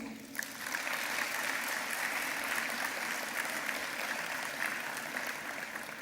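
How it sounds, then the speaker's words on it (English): A big round of applause from an audience at a corporate celebration of a company's 4,000 employees, steady and dense from start to finish with no pauses. "I think this deserves a big round of applause."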